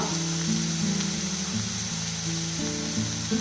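Ginger garlic paste sizzles in a pan of frying onions with a steady, close hiss, over a low, rhythmic, droning hum that runs underneath throughout.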